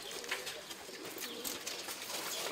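Pigeons kept by fanciers in Kashmir coo softly against a steady outdoor hiss. Faint low calls come through the constant background noise, with no one speaking.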